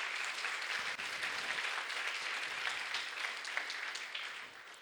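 A church congregation at a Pentecostal service claps steadily and continuously, a dense sustained applause filling the room.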